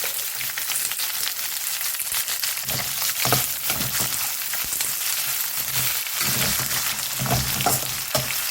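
Chopped onions sizzle and crackle steadily in hot oil in a pan, a dense close frying hiss with occasional stirring scrapes and no talk, for a home-cooked kuzhambu.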